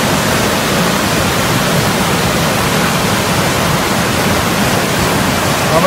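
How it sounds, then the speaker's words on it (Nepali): The Bishnumati river, swollen after several days of continuous rain, rushes past in a loud, unbroken broadband roar that stays steady throughout, with no voices. "दुई चार दिन लगातार पानी परेर बढेको विष्णुमती नदीको नदी खोलाको सतह हो बढेको सतह बढेको"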